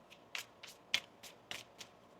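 Tarot card deck being shuffled by hand, about six soft, papery riffle bursts at an uneven rhythm, faint and close with no talking.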